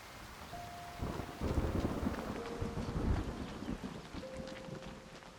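Rain pours steadily in the farming video game Fae Farm, with rumbling thunder rolling in around the middle and a few faint chime tones over the downpour.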